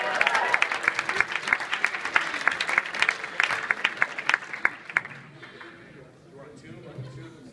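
A live audience applauds a kazoo player performing with a band at a conference concert. The clapping is dense and steady, with a few sharp claps standing out. It fades toward the end, and chatter and a voice are faintly audible underneath.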